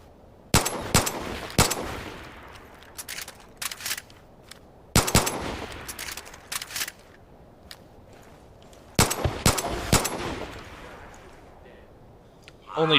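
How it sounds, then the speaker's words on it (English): Pistol fire from an M1911 in the shooter game Division of Arms: sharp, loud single shots in short clusters of two or three, separated by quieter gaps with faint game ambience. "And here we have the classic M1911."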